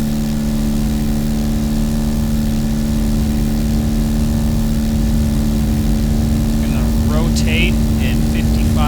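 A steady, droning light-aircraft engine at full takeoff power in a flight simulator, constant and loud throughout, with a few brief voice calls near the end.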